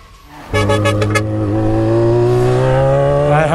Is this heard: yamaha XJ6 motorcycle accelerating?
yes